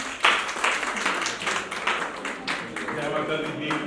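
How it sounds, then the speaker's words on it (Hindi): An audience claps in welcome at a motivational seminar, a steady patter of hands filling the room at moderate loudness. "तालियों के साथ सबका स्वागत है।"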